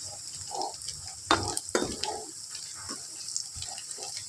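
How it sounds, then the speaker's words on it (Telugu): Ginger garlic paste frying in oil in a pan, a steady close sizzle with occasional stirring scrapes and clatters, no talking. "మంచిగా పచ్చివాసన పోయేదాకా ఫ్రై చేసేద్దాం ఆయిల్."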